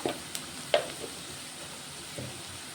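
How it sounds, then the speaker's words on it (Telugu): Ginger garlic paste and turmeric fry quietly in a pan for a fenugreek carrot dish, a soft low sizzle with a few sharp clicks of a spoon early on, close and faint. "ఇప్పుడు ఇందులో కొంచెం అల్లం వెల్లుల్లి పేస్ట్ వేస్తున్నా అలాగే కొంచెం పసుపు వేసుకుందాం"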